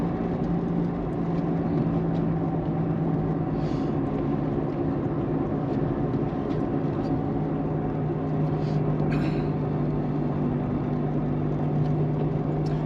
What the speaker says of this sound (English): With that horrible whirring noise, if you're driving a long way, that'll get to you.